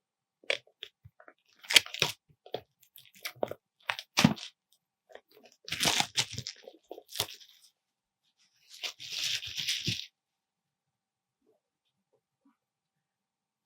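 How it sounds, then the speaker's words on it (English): Plastic wrap torn and ripped off a Magic The Gathering Foundations starter collection box, in close crinkly bursts and crackles separated by short pauses, ending in quiet. "we've got a little bit of plastic on this one. We're going to cut that open, or rip it open"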